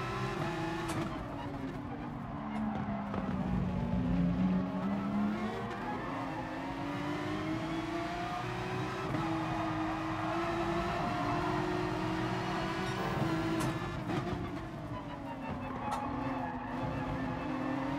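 Race car engines in Gran Turismo Sport scream down a straight, with a McLaren and an Aston Martin in the pack, sustained loud harmonic drone that rises and falls in pitch with gear changes and passing cars.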